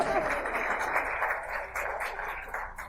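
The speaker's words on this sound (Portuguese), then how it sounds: "Palmas para Amélia." A gathering claps for a woman named Amélia after she is asked to stand, with short, fairly soft, continuous applause under a murmur of background voices.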